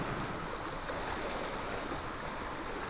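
Sea water on the Scottish coast surges into a rock cave beneath the shore, a faint, steady, muffled wash with no voices.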